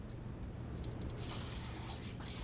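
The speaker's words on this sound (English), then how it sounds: "Please do not be startled when I turn on the water." Tap water for hand washing starts partway through in a kitchen while waffles are being made, becoming a steady close rushing hiss with no talking over it.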